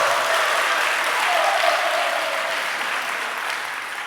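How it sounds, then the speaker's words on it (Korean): An evening church worship congregation claps together in steady, dense applause, loud and even throughout, with a few faint voices mixed in. "자, 있는 힘을 다해서 박수."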